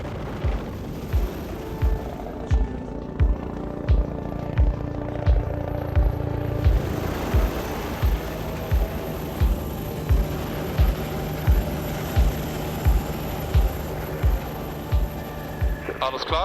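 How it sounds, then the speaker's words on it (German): A mountain rescue helicopter returning to an accident site pulses with a steady rotor thump throughout, a rhythmic low beat and a continuous engine whine, fairly close and loud. "Innerhalb weniger Minuten kommt Gerold mit dem Helikopter wieder zurück zum Unfallort."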